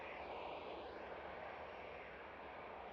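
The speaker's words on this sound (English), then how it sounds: "There you go, John, that China Eastern 777" A China Eastern Boeing 777 airliner at Amsterdam Schiphol gives a steady, broad jet roar, fairly distant and even in level across the whole stretch, with no talk over it.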